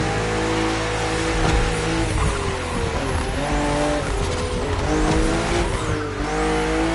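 BMW M2 and M4 race cars in a PS4 racing game roar steadily and loudly on a narrow, twisty road, the engine notes rising and falling through sharp bends with a bit of tire squeal.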